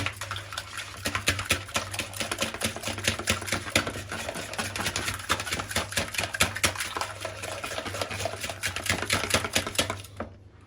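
Egg, onion and cumin mixture stirred briskly in a bowl, a rapid, steady clatter of utensil against the dish that continues for about ten seconds and then stops abruptly.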